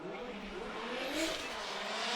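Nissan S15 drift car at Suzuka during Formula Drift Japan qualifying, its engine holding a loud, sustained howl from mid-distance with a brief rise in pitch, no talk heard.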